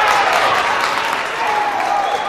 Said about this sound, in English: Crowd's coming alive for that